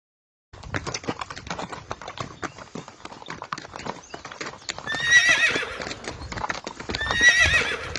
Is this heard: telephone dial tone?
no